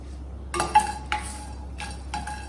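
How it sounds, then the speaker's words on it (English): Cinnamon, cloves and black peppercorns dry roasting in a pan, heard as a few distinct metallic clinks and rattles of spices and utensil against the pan over a low steady hum, close and moderately loud. "These are the things that go into the dry roast. So let's roast it."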